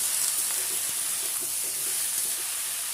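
Vegetables stirred with salt and turmeric in a hot pan give a continuous hiss of frying with faint, soft scraping strokes underneath, no talking.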